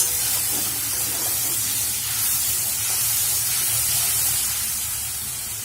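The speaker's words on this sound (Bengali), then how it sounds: "এর মধ্যে আমি দিয়ে দেবো অল্প একটু জল দিয়ে এটাকে আমি ভালোভাবে নাড়াচাড়া করে নেব।" Water poured into hot, fried masala hisses steadily as the mixture is stirred in a pan for samosa filling, a loud, continuous spray-like sizzle with no voices.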